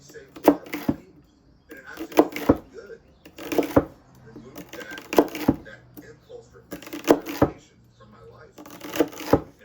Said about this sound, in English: celery, and I'm going to chop these up